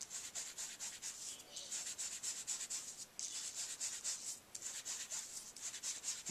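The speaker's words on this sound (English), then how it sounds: "This is your Distress Ink, the tea dye. And you're going to do the same kind of thing, coming around the edges." Tea dye Distress Ink is rubbed around the edges of a card in steady, fast strokes, a faint close-up scratchy swishing that repeats without pause, with no talking.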